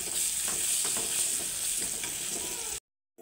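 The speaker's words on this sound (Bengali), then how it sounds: "দেখুন সোয়াবিনগুলো ভালো করে লাল লাল করে ভাজা হয়ে গেছে," Soybean chunks frying in oil with turmeric and salt, a steady loud sizzle with faint stirring clicks throughout, then cutting off abruptly into silence near the end.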